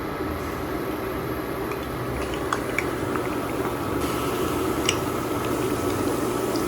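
Malpua batter hits hot oil set to high-medium heat and fries with a steady, dense bubbling and crackling sizzle, close and continuous throughout.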